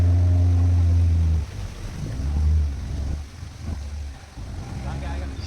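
A small boat travelling on the sea near the Andaman and Nicobar Islands, with a steady low engine drone and water rush throughout, while someone talks over it.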